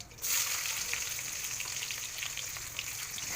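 Onions hit hot oil with whole spices in a kadai, bursting into a loud sizzle that settles into steady crackling frying, close by and with no voices.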